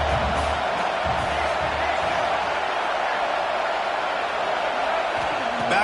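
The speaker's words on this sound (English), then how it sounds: "Listen to this crowd just shaking the girders of this place" Dense, roaring wall of noise from a packed stadium crowd cheering on the defense at a Michigan versus Clemson college football game, loud and sustained without letup.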